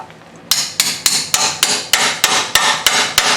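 Sharp metallic hammer strikes ringing out in a steady rhythm, about ten blows in quick succession, close and loud, on the exhaust of a 1998 Subaru Legacy Outback.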